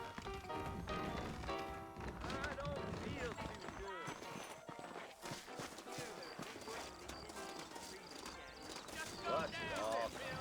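Hooves clip-clop in a steady trot under talking voices and background music in the video game Red Dead Redemption, with a horse whinnying near the end.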